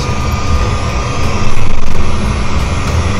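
Loud, steady aircraft engine drone heard inside the cockpit while the plane is prepared for flight, with a broad constant roar and a slight swell partway through.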